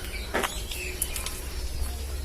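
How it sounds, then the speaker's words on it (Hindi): Faint, scattered bird chirps in the Kullu hills, a few short tweets over quiet outdoor ambience with a low rumble beneath. "सुकून और पक्षियों की इतनी खूबसूरत चहचहाती हुई आवाज़"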